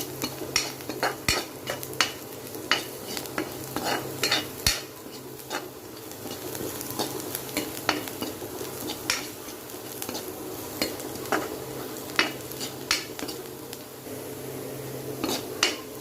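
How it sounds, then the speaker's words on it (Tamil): Onions sautéing in a pan until golden brown for a green peanut sundal, with frequent close clinks and scrapes of a spoon against the pan over a low steady frying hiss and no talking. "நல்லா கோல்டன் ப்ரௌன் வரட்டும் வதக்கிக்கலாம் நல்லா வதக்கிக்கோங்க"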